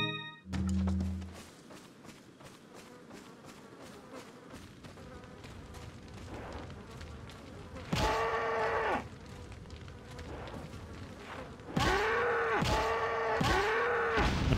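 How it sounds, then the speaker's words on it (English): A cow in the Resident Evil 4 video game moos several times, long and drawn-out, over a buzzing of flies and a quiet ambient drone from the game, with no one talking. "Apparently you can kill the cow."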